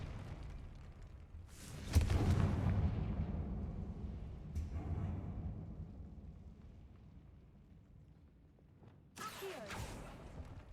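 A Confringo blasting spell in Hogwarts Legacy bursts with a deep, rumbling boom that rolls off slowly, followed by a softer second blast and a sharp final burst, each fairly distant and muffled.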